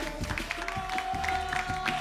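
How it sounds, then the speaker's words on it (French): An audience at a French-language rap battle semi-final claps for both contestants, quick rhythmic claps and crowd noise layered over a held tone throughout. "on applaudit les deux s'il vous plaît"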